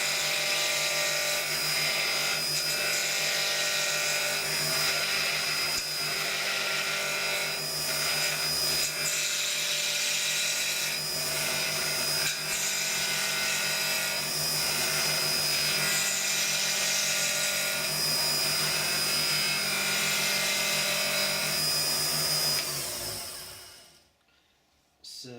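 High-speed rotary tool running fast while nibbling through a keyring: a continuous, close, piercing whine that holds steady with slight wavers, then cuts off abruptly near the end.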